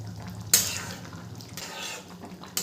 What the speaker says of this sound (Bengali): কর্নফ্লাওয়ারটা দিয়ে ভালো করে নাড়তে হবে